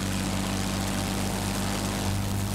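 Warplane propeller engines drone in the World of Warplanes combat game, a dense, steady, loud buzzing hum with no break, alone without talk.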